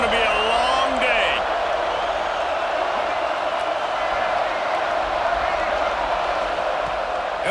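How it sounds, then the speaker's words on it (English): A stadium crowd roars throughout a Michigan versus Florida State football game, a thick, sustained wall of cheering and whooping that stays loud and steady with faint voices mixed in. "This crowd, full throat, splitting the eardrums"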